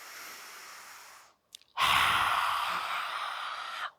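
Deep yoga breathing up close: a long, steady breath, a brief pause, then a strong, sustained airy exhale, loud and alone with no talking.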